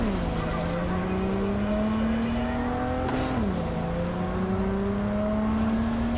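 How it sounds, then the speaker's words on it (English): A car engine in Cyberpunk 2077 revs hard and whines with a boosted, NOS-like tone. It holds a steady, loud pitch, dips sharply near the middle, then climbs again and keeps droning. "This car sounds super like it's using NOS or something."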